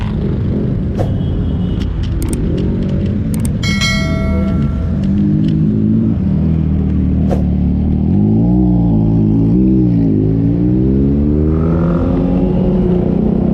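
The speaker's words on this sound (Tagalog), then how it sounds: "Dami pa rin mga sasakyan." Road traffic passes near MRT3 Guadalupe Station, a continuous low rumble of engines with vehicles revving and pulling away. A few sharp clicks and a brief bell-like chime come early, and there is no talking.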